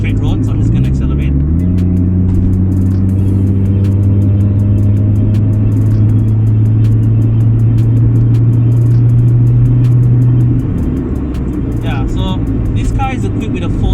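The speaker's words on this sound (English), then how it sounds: "So now I'm on a slightly straight road, so I'm just gonna accelerate." A 1994 Honda Integra ZXi with a B18 1.8-litre VTEC engine and 4-speed hydraulic automatic accelerates along a road, its engine drone rising steadily in pitch with a couple of gear shifts, heard loud from inside the cabin over road rumble.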